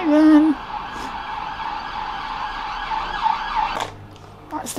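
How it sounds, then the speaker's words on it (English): An emergency siren wails steadily at a moderate distance, its tone holding over a low rumble of traffic before cutting off near the end. "Siren!"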